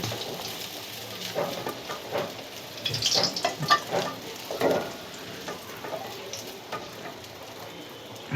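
Chital fish kofta frying in a pan, a steady crackling sizzle with scattered pops and stirring scrapes, close and continuous with no talk.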